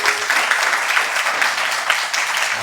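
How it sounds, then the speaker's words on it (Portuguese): Church audience breaking into applause during a sermon, a loud, dense crowd clapping that stays steady and close for a few seconds with no speech over it. "Vamos aplaudir isso em nome de Jesus?"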